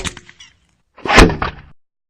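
A gasoline-fueled potato cannon fires a quarter-pound potato: a short, faint rattle first, then after a pause a single loud, close boom that dies away within a second.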